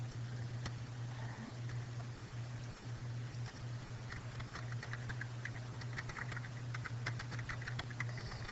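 Fingers type on a computer keyboard in a quiet room, a faint, steady patter of clicks with irregular rhythm over a low constant hum, no voices.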